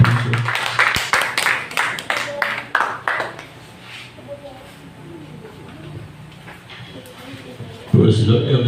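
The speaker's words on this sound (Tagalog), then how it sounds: "Tayo pumalakpak sa ating pinakamahal na Panginoon." A church congregation claps in praise during a Filipino worship service, with a quick burst of sharp claps for about three seconds before it thins into room noise and murmur.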